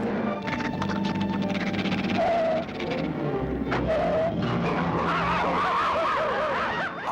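A cartoon car revs up loudly, then tires squeal and skid in wavering, whining sweeps as it pulls in, all close and without any talking.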